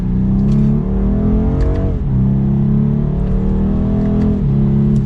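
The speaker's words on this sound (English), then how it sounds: "let's go ahead and put it into Sport Plus and pop it over so we can use these paddle shifters. We'll give it an acceleration here." A 2022 BMW 230i in Sport Plus mode under hard acceleration with paddle shifters, its engine note rising steadily, dipping briefly at an upshift near two seconds and again near four and a half, loud and continuous with no talking.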